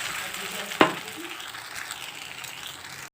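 Oil sizzling on a hot tawa, a steady hiss broken early by one sharp, loud clatter, then continuing evenly and close with no voices.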